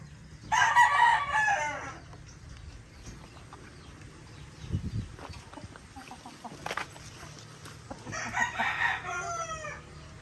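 A young gamefowl stag rooster crows loudly and close at the start, and again near the end, with quieter farmyard rustling and scattered clucks in between.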